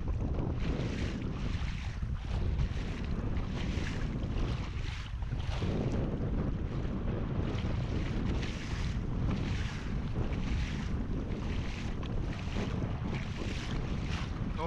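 Strong wind buffeting the microphone while kayaking against wind and current on open water, a loud continuous roar with gusty surges and water noise, no talking.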